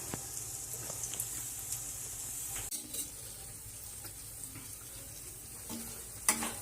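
Malpua batter sizzles steadily in hot oil in a pan while a spoon stirs and scrapes, with a few light clinks of utensil on the pan over a continuous close frying hiss.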